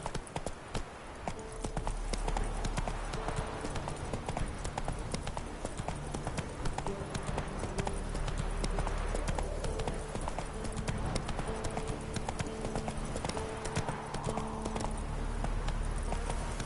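Horse hooves clip-clop in a steady, continuous rhythm throughout, moderately loud and close, with little else beyond a soft background bed.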